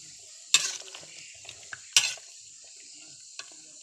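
A spoon scrapes and stirs through a pot of frog tom yum soup with young tamarind leaves, giving two sharp scraping swirls and a lighter third clink against a quiet simmering background.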